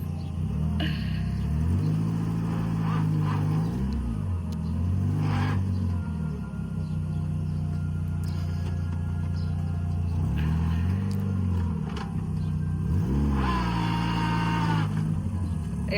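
A car crawling slowly through soft, loose sand toward a campsite, its engine a steady low rumble with several rising revs as it strains, a continuous drone throughout.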